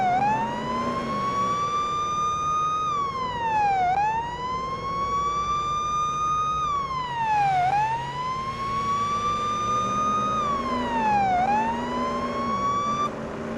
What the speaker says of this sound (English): just be careful when using the sirens on the highway